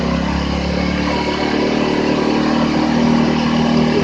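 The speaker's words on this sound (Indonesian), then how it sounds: "mesin udah teriak." A 2003 Yamaha Jupiter Z motorcycle engine revving loudly up close, a steady high-pitched buzzing drone that climbs slightly and holds throughout.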